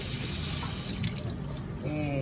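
Tap water runs into a sink in a steady, close splashing stream, with a brief voice-like tone near the end.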